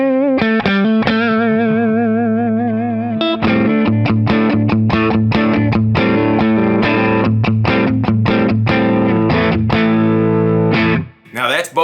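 A Chibson Les Paul copy electric guitar played through distortion with both pickups selected, sounding loud, close and sustained, with chords and riffs ringing steadily and brief pauses near the end.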